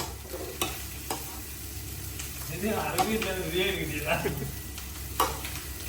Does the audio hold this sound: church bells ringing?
no